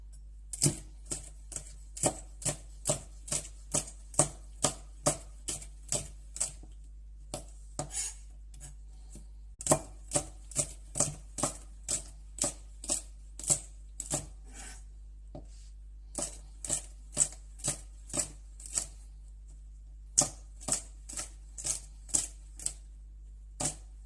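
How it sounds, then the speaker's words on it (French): Green beans being cut into thin rounds for vegetable empanadas, a knife tapping a cutting board in quick, regular strokes, with short pauses between runs. "Concernant les haricots verts, on va les couper en fines rondelles."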